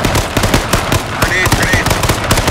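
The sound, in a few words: gunfire in Z1 Battle Royale video game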